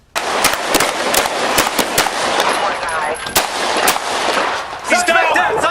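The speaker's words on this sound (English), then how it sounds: "Officers outside the SUV fired into the back seat." Police officers firing into the back seat of an SUV during a gun battle, a rapid burst of many sharp, loud shots in close succession over several seconds, recorded up close.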